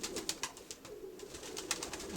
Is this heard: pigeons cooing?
yes